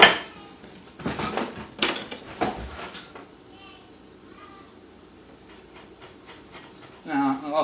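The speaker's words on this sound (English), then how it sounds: "Just get me a plate." Dishes clatter as a plate is fetched in a home kitchen, a few bright ceramic knocks and rattles in quick succession, then quieter room sound with distant voices and a final clink.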